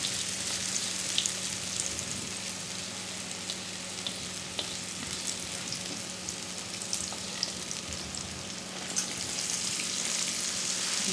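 Cornbread batter sizzles in a hot greased pan, a steady, close crackling fry with scattered pops and spits throughout, moderately quiet and without voices.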